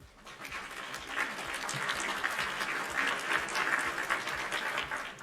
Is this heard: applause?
yes